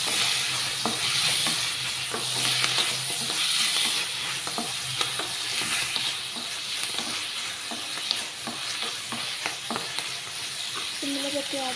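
Curry leaves and cluster beans fry in an oiled pan with a steady, dense sizzle, punctuated by frequent clicks and scrapes of stirring throughout.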